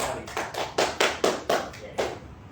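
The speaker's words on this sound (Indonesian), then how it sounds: "Tepuk tangan meriah berkali-kali." Rhythmic group clapping at an Indonesian book-writing workshop event, about eight sharp, evenly spaced bursts of claps in quick succession, loud and close.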